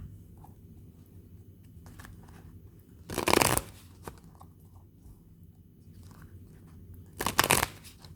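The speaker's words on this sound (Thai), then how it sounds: "เราก็จะมาเลือกไพ่ให้ชาวราศีพิจิก 10ใบค่ะ" Tarot cards being shuffled and handled for a Scorpio reading, two short, loud bursts of riffling against a quiet background of soft card handling, with no talk.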